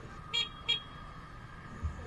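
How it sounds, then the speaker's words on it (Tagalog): The stock horn on a big bike motorcycle gives two short, separate toots in quick succession, each lasting a fraction of a second, fairly faint over a low idle background. "susubukan natin ang busina"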